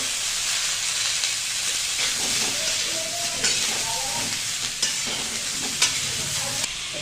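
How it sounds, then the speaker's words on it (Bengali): Cauliflower with turmeric and salt sizzles steadily in hot mustard oil, with occasional scraping and clinking from stirring and faint murmuring in the background. "ফুলকপি ভাজা হচ্ছে।"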